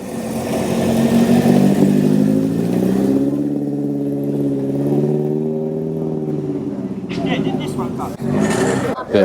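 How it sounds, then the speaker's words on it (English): A Mark II Ford Fiesta pulls away at a classic car gathering, its engine note rising and shifting steadily over several seconds as it drives off, with crowd sound around it. "Off goes this Mark II Fiesta."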